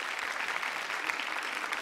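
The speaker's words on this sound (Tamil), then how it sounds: "ஒரு பலத்த கரகோஷம்." Steady, dense audience applause on the Tamil TV singing show Super Singer, holding at an even level for the whole stretch with no voices over it.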